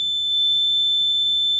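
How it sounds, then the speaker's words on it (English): Arduino-based window burglar alarm in a simulated smart living room, a steady piercing electronic beep tone sounding continuously and loudly for the whole moment, alone with no talk. "If I open the window or remove this magnet, the alarm will sound"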